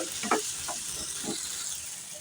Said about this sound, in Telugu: చక్కగా పోపులో వేసాం కదా వంకాయ ముక్కలు అటు ఇటు చక్కగా తీసుకొని